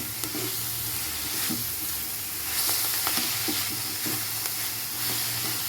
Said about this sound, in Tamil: மல்லித்தலையை, புதினா தலையெல்லாம் விட இது கொஞ்சம் ரொம்ப நேரம் வணக்கணும்.